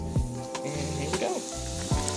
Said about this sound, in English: See how it's sizzling immediately?